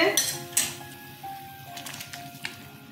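Potatoes go into a boiling fish curry with jackfruit seeds and pointed gourd: a few close metallic clinks of utensil on pot, a soft wet plop and a faint simmering bubble underneath.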